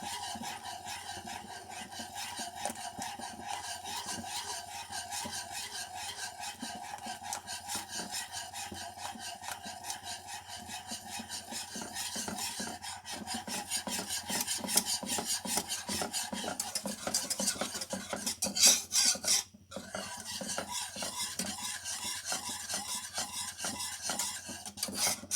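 A beater steadily whisking custard mixed in milk in a pot, a continuous scraping, rasping rub that runs throughout, close and even, briefly cutting out near the end, with no voices.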